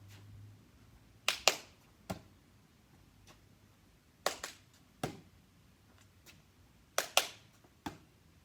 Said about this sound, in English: Clap twice and then we catch it